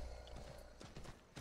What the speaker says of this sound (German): ich habe ja hier ein Pferd mit Stollenhufen